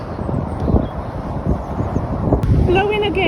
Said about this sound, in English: Blowing a gale, obviously. That's what the end of the sound is.